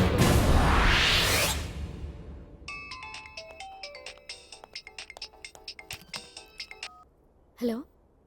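A mobile phone ringtone plays in a Telugu movie scene, a bright repeating run of electronic beeps after a loud whoosh, ending with a short voice.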